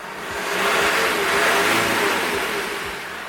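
Car engine with a damaged injector seal revving once, a swelling roar that climbs and then eases back, close and loud, with low uneven pulses underneath.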